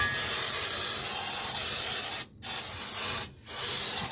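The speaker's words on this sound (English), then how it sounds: "So we're going to go ahead and make sure we spray that." A baking spray aerosol can sprays in a long steady hiss, then two short pauses break it before the spraying resumes; close and loud, no voices.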